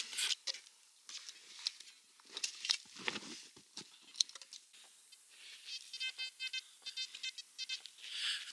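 A metal detector sweeps over a clump of soil in a ploughed field, with scraping and patting of earth, then a run of steady, repeated electronic beeps that sit close and fairly quiet.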